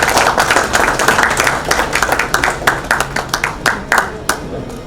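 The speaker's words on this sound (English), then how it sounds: "Can we have a big round of applause" An evening awards gala audience applauds for an on-stage guest, the clapping dense and sustained at first, then thinning into scattered, distinct claps toward the end.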